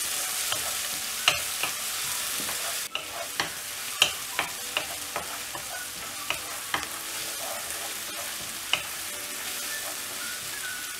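Onions being sautéed in a pan for mushroom gravy, a quiet even sizzle punctuated by frequent sharp clacks of a spoon scraping and knocking the pan as it stirs, with no talking.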